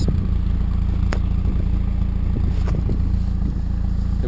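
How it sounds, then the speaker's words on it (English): A 1998 Mazda MX5 Berkeley with a newly fitted IL Motorsports exhaust idles steadily close by with a low, throbbing rumble and a few faint clicks. "I've got my new exhaust. It's a Mazda MX5"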